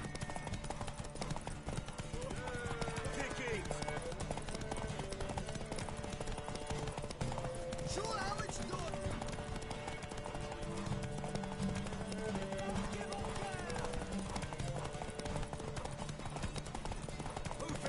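Horse hooves gallop in a rapid, continuous clip-clop during a race in Witcher 3, set under game music and ambient noise, with steady drumming hoofbeats throughout.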